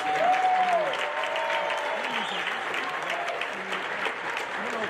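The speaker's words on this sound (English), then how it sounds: "So one more round of applause for everyone." Audience at a high school awards night claps in sustained, even applause throughout, with a faint voice briefly audible over the clapping.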